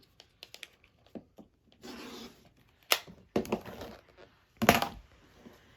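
Fabric squares, 3.5 inches, are cut in half while piecing a Dresden quilt with Seminole sashing. Close, crisp slicing and scraping sounds come in short scattered ticks and a few longer strokes, with no talking.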